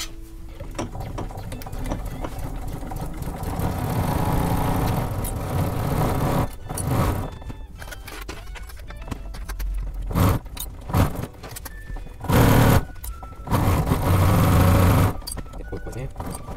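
Sewing machine stitching a burlap coffee-sack snowboard bag, with bursts of rapid mechanical running between pauses, close and fairly loud, while someone talks throughout.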